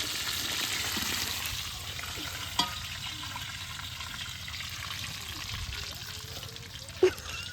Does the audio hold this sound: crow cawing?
no